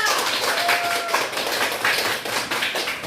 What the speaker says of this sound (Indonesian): tepuk tangan Natasha